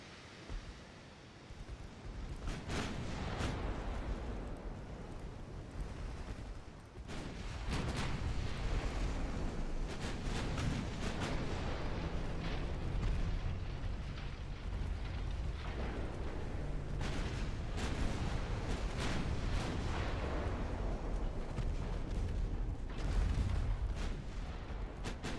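Heavy battleship artillery fire in a WWII naval video game: sustained booming salvos and rumbling explosions rolling continuously over a dense low roar, with repeated sharp blasts standing out throughout.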